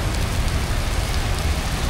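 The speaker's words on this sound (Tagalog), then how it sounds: "Maulan." Steady, dense rain falls throughout, a continuous broadband hiss with low rumble beneath, heard during a city tour of Bacolod; no voices.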